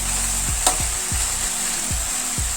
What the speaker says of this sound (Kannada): ಅರಿಶಿನ ಪೌಡ್ರು ಮತ್ತು ಉಪ್ಪು ಹಾಕಿದ ಮೇಲೆ ಸ್ವಲ್ಪ ಈ ರೀತಿ ಫ್ರೈ ಮಾಡ್ಕೋಬೇಕು